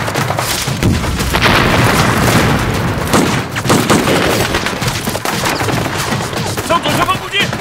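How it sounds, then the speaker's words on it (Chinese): Tank cannon fire in a special forces war film: loud booming blasts and crackling, splintering impacts in a dense, continuous battle mix, with shouting voices mixed in. "CY 坦克火炮射击模拟系统准备，模拟发射。"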